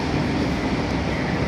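A train rolls past at a busy city rail station at night, a steady, loud, close rumble of wheels and carriages with no voices over it.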